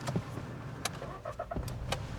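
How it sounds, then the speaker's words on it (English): A car engine being started for a driving lesson before joining the A12 southbound: a short cranking burst and catch, with small clicks and cabin rattles, heard close inside the car with no talk. "start your engine"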